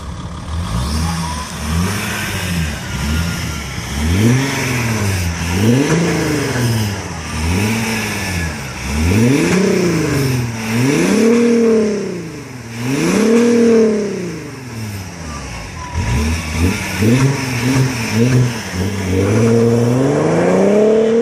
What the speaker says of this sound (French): Le bruit, il était assez sympa avec le décata et le silencieux